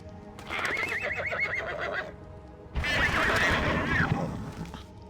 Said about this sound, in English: I think if I can run in and get to my old horse, I could tame him